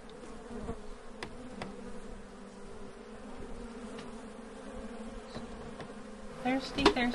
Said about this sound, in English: Thirsty, thirsty bees.